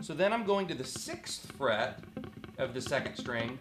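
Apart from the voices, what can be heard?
No distinct noise like a dog, phone or traffic.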